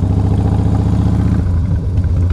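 An old Ford Mustang engine runs at a steady low rumble, close and loud, with a slight shift in tone partway through as the car moves off; no one speaks.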